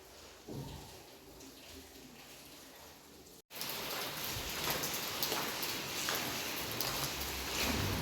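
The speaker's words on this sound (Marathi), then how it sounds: "भरपूर भरपूर पाऊस चालला आहे बाहेर" Heavy rain pours steadily outdoors, a dense hiss of drops that grows louder and fuller after a short break midway.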